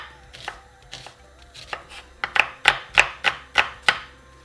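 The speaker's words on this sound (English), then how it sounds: "I'm just going to chop them up into thin slices." Peeled onions being sliced thin with a knife on a cutting board: sharp close knocks, first scattered and quiet, then a quick even run of about seven louder chops.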